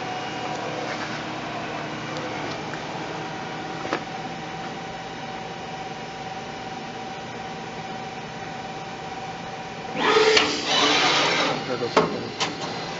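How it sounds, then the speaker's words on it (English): Speedline MPM Momentum Elite stencil printer with a steady mechanical hum, then its cleaner moving into position with a brief, louder whirring rush near the end. "That was the cleaner running into position"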